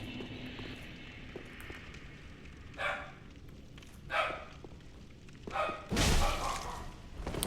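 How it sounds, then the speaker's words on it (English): A small dog barks several times in the background, in short separate bursts, with a final louder bark near the end. "It's my little puppy dog barking in the background."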